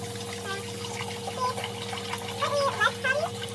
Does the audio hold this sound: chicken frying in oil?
no